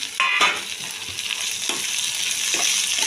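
Potatoes and green chillies with crushed ginger and garlic sizzle steadily in a hot oiled pan, a dense continuous hiss with a few louder bursts of stirring near the start and occasional scrapes, no talking.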